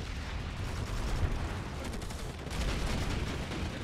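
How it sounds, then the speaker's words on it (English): A grenade explosion in the sci-fi shooter game Planetside 2, heard as a low, rumbling blast that blends into steady, dense battlefield noise with no speech. "Oh, that's a grenade."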